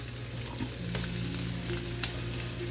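Garlic fries in sunflower oil in a pan, giving a dense, steady sizzle with a few small pops and crackles, close and constant throughout.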